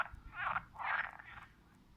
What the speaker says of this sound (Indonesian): Ini katak.